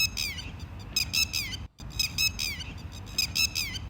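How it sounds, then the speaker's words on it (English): A ground-nesting watchman bird gives loud alarm calls: rapid, sharp, repeated notes in clustered bursts with a brief pause midway, close and insistent, with no voices. "The parents are extremely alert and give loud alarm calls like,"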